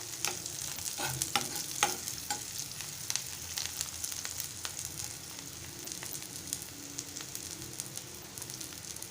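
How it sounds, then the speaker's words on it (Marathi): Chopped onion and curry leaves sizzle in hot oil as a tempering for okra, with a quiet steady frying hiss and scraping stirs of a spoon in the pan, no voices. "एक मिनिट फोडणी छान तेलात भाजून घेतली आहे"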